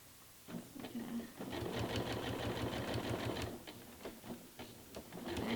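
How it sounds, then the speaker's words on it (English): Serger overlock sewing machine stitching fabric in bursts, a fast mechanical whirring hum that starts, runs for a couple of seconds, pauses and restarts, with a person talking faintly in between. "haven't used my serger in a while"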